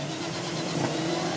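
A rally car on a 2012 Brean rally stage runs its engine with a steady mid-pitched drone that swells slightly partway through, heard at moderate distance with no talk.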